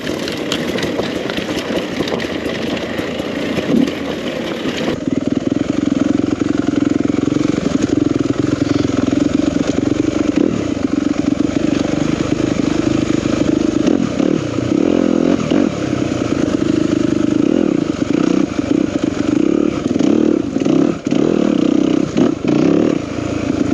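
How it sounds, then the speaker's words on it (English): A 2021 Yamaha YZ250 FX dirt bike engine running loud and close, a steady raspy drone that thickens after a few seconds and holds with small rises in revs for the whole stretch. "2021 Yamaha YZ250 FX. Been wanting to try this bike for a while."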